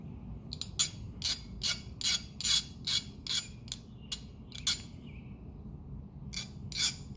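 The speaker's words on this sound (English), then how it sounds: "You just want all the burrs off of it to make it nice and clean." A cut end being deburred with a hand tool, giving a run of short rasping scrapes in a steady, uneven rhythm close by, over a constant low hum, with brief pauses between strokes.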